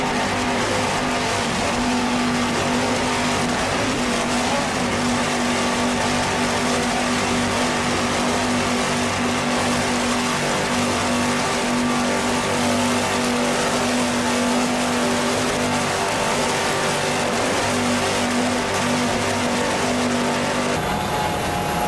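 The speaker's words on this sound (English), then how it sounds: "Let's listen to those Carolina racing engines, too." Racing powerboats with 600-horsepower Carolina engines roar at a 1994 Jacksonville grand prix, a loud, steady engine drone holding an even pitch throughout.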